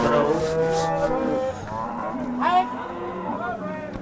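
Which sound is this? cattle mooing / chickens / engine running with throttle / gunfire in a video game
cattle mooing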